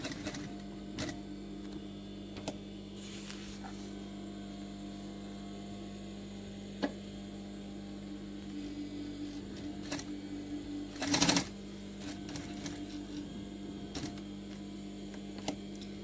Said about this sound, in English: I'm just sewing along the inside of my chalk pastel line